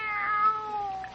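A cat meows in a single drawn-out, falling cry, close and clear with no talk over it, in a horror radio drama adaptation of The Black Cat.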